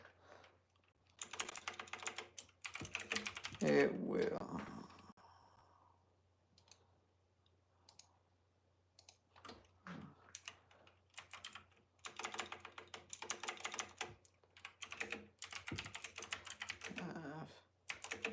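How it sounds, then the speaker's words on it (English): Bursts of typing on a computer keyboard, quick clattering runs of key clicks separated by pauses, close and fairly quiet, with a brief voice speaking. "I'm typing the details."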